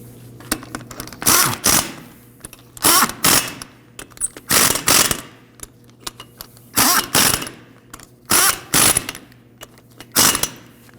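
Ratchet clicking in repeated short bursts, roughly five separate runs of rapid pawl clicks, as a bolt is snugged down on the inner tie rod of a 1993-2001 Subaru Impreza in a garage.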